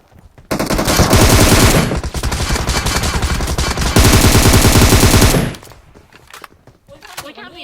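Rapid automatic gunfire from the battle royale game PUBG rattles loudly and continuously for about five seconds, briefly easing midway, then cuts off into quieter game ambience.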